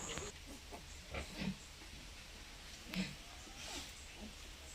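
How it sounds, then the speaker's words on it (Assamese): Piglets suckle milk from a sow on a pig farm, making soft, faint grunts and snuffles in brief bursts against a quiet, hissy background. "পোৱালিবিলাকে এনেকৈ গাখীৰ খাইছিলে"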